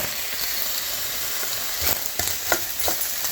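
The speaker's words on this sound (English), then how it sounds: "I'm going to add 1 large onion to the mix." Onion added to a hot pan holding browned beef bits for a roasted tomato stew, giving a steady bright sizzle and hiss with a few soft scraping stirs near the end, close and moderately loud, no talking.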